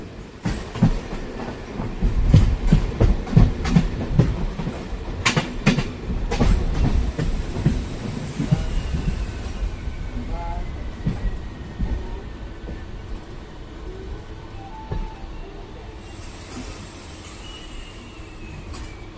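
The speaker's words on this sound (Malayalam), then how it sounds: "ട്രെയിൻ ഇപ്പോൾ ഇതാ പതിനൊന്ന് പതിനഞ്ചായപ്പോഴേക്കുമാണ് കുപ്പർ റെയിൽവേ സ്റ്റേഷനിലോട്ട് ഇപ്പോൾ ഇതാ എത്തിക്കൊണ്ടിരിക്കുന്നത്" A MEMU train rolls into Kuppam railway station on its way from Bangalore, giving loud rumbling wheel clatter and clicks that ease and grow quieter as it slows, ending in a calmer hum with a faint tone.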